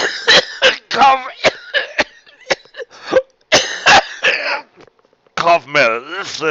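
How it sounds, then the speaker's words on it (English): A man coughs repeatedly in loud, sharp bursts, a long coughing fit broken by short pauses, with some talking and throat sounds mixed in. "I drool when I cough too much"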